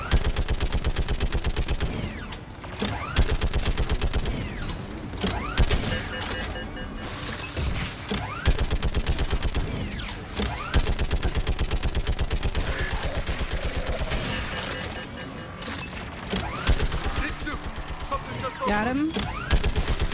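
Rapid turret gunfire in the video game Mass Effect 3 rattles in loud sustained bursts with short pauses between them, close and dominant, while a voice speaks briefly over the shooting.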